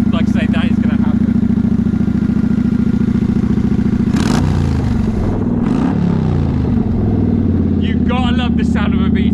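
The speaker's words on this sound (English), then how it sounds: "The sound of a V-twin, you really have, and that's still got baffles in it." A Kawasaki VN900 V-twin motorcycle engine with baffles still fitted runs with a loud, steady, deep throb that continues throughout, with a brief clattering surge midway.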